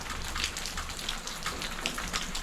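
Steady rain patters on concrete, a dense hiss of drops with small irregular splashes throughout.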